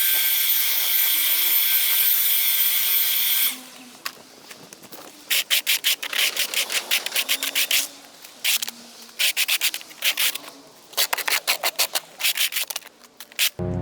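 A powered blower or sprayer hisses steadily while clearing moss off a garden path, then breaks into rapid bursts of rough, rushing spray pulsing on and off at close range.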